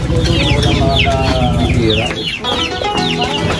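Native chickens clucking busily and continuously at close range, several birds overlapping in a dense, steady chorus with no pauses.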